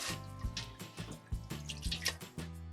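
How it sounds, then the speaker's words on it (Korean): Boiled hijiki seaweed being rinsed in cold water in a kitchen sink, with irregular splashes and drips of water sloshing close by, alone without talk. "나물이 식도록 찬물에 3번 정도 씻어주시면 돼요."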